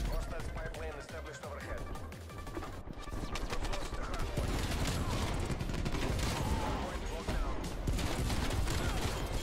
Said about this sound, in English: I love these pistols.